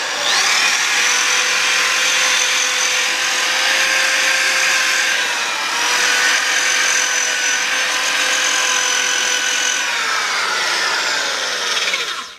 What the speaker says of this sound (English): The steel wire brush seems to work just as good and goes a lot quicker